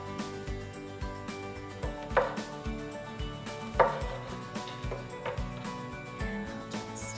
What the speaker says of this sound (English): I'm gonna slice up about 2 cloves of garlic